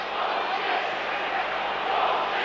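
A large football crowd at the MCG roars in a sustained, steady wash of cheering and voices during a 1989 North Melbourne versus St Kilda match, loud and continuous throughout.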